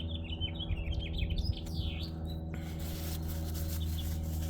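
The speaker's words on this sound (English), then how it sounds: "Birds are going off this morning." Several birds chirp and tweet in quick bursts in the morning outdoors over a steady low hum, the calls fading after a few seconds into a constant background rush.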